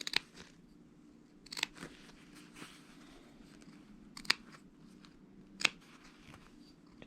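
Scissors snipping small triangular notches into fabric along a dress sleeve curve, a handful of short, crisp cuts spaced irregularly, fairly quiet and close, with no talking.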